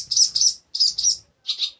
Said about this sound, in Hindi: इतना चिल्लाती है ना चिड़िया,